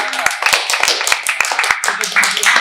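Several people clap in quick, uneven bursts at close range in an informal team chat, sharp hand strikes mixed with voices talking and laughing.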